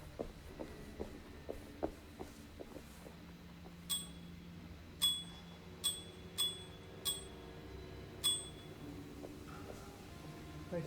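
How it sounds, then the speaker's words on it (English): A bicycle bell in the video game Alone in the Dark rings several times in sharp, bright dings spaced about a second apart over a low ambient game background. "Bicycle bell"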